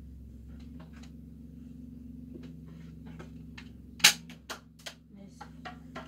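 A toy gun fires indoors: one sharp, loud pop followed by a few softer clicks and taps, all over a steady low household hum.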